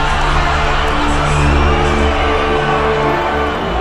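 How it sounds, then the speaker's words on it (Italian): A large studio audience at an X Factor show cheers and applauds loudly and continuously after a singer's performance, played back from tape, a thick wash of clapping and whoops with no pause. "A me è parso che il pubblico ha applaudito quando ho finito di cantare."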